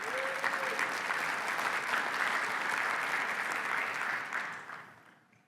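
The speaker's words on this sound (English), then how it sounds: "We should probably applaud him for these great reports." Audience at a real estate industry conference breaks into steady, dense applause that holds for several seconds before fading out at the end.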